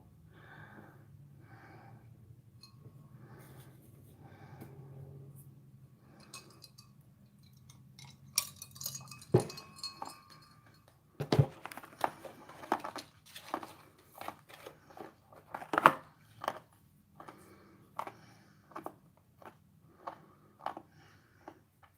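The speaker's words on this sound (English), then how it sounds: "Y'all can probably hear me chewing that ice, can't you?" Ice being chewed close to the mic, a string of crisp crunches and cracks coming in irregular bursts, some loud, over breathing and low background murmur.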